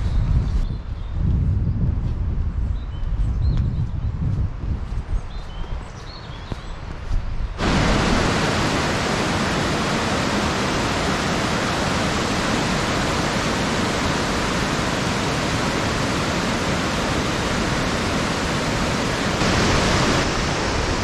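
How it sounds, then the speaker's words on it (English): Flood water pours over a weir on a river in the Peak District. A quieter outdoor ambience gives way abruptly to a loud, continuous roar of rushing water that holds steady to the end. "Pretty impressive weir with all the flood water."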